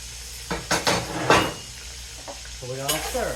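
Cajun pastalaya frying in a pot, a steady sizzle with scraping bursts as it is stirred and a few clinks of a utensil against the pan, close and moderately loud.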